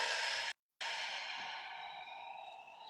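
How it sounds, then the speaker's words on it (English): A long, deep breath drawn in and let out slowly during a calming breathing exercise: a steady broad hiss of air, close and soft, with a brief pause near the start, then continuing and gradually easing. "Long inhale and long exhale"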